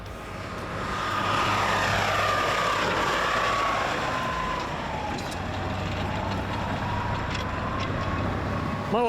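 A Stryker armored vehicle drives fast across rough terrain, a loud sustained engine roar and rumbling with a rising whine that shifts pitch as it speeds along.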